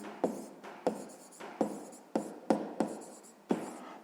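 A pen writes on paper while a sixth-grade maths exercise is worked through, giving about seven distinct scratchy strokes in a steady rhythm, close and alone with no talk.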